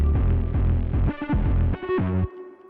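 Heavy, distorted Reese bass synth playing a stepped, pulsing pattern with gliding pitch changes, loud and buzzy, then cutting off into near silence.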